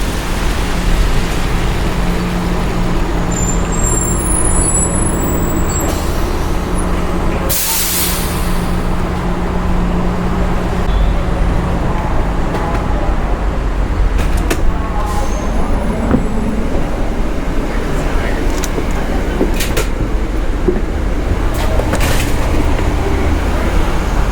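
A half-hour ride aboard a bus to a car rental plaza: a constant loud engine drone and road rumble fill the cabin, with a brief hiss of air brakes and a few squeaks along the way.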